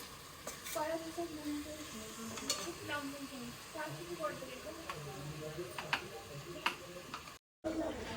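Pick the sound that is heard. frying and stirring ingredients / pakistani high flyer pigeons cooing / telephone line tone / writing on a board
frying and stirring ingredients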